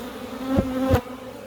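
Honey bees buzz loudly and close around an opened beehive in Corsica, a dense steady drone with two sharper swells as individual bees pass near.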